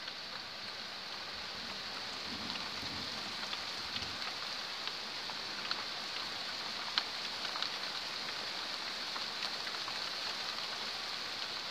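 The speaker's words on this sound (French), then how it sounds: "Wow, comment il pleut d'un coup là" Sudden heavy rain during a July thunderstorm in Pernois, France, pouring in a dense, constant patter with scattered sharper drop impacts and no voices or thunder audible.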